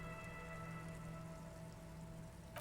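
Steady rain ambience from the video game Disco Elysium, a city setting in Jamrock, with a soft continuous wash of falling rain and faint tonal hum beneath, even and unbroken throughout.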